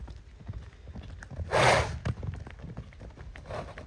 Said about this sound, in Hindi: और इसका कैंटर और गैलप बहुत ही स्मूथ है।